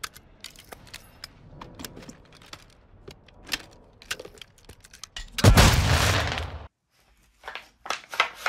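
Real firearm being handled in a recreated Modern Warfare 2 magazine reload, with a series of close metallic clicks and rattles, a loud burst partway through, then more clicks.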